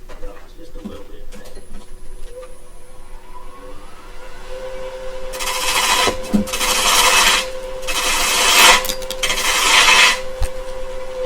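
A woodturning gouge with a relief-ground back cuts into a spinning bowl on a lathe, giving several loud rasping bursts of shaving in the second half, with a voice talking nearby.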